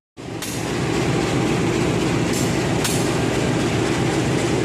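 A KA 425 passenger train hauled by a CC201 diesel locomotive arrives at Wlingi station, heard from inside a carriage as a sudden loud steady rumble with rolling wheel noise and a couple of brief clacks.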